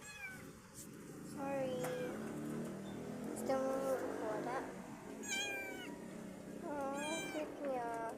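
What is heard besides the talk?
cat meowing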